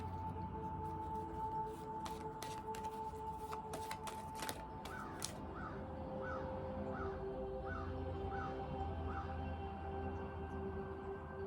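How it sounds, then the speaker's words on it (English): Several crows caw from a tree in a short series of repeated harsh calls, moderately distant over a quiet outdoor background, with a few sharp knocks earlier. "We got seven crows from the raven in the tree."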